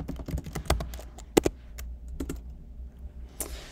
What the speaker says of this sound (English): We'll type CD, we'll type dot dot to go back into the My Folder directory.